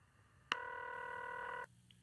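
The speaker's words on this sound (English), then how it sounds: "It's ringing." A telephone rings once in a single clear burst of about one second, starting sharply and stopping abruptly, over a quiet background with no talking.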